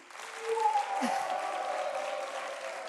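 A TV studio audience applauds steadily through the whole stretch, a dense wash of clapping with a brief voice or whistle rising over it early on.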